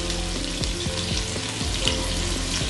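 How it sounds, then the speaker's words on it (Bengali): Chopped onion and salt frying in a pan for Bengali papaya bharta, a close, steady sizzle with crackling pops and brief scraping stirs throughout. "সব কিছুকে আমি এখন ফ্রাই করে নিচ্ছি।"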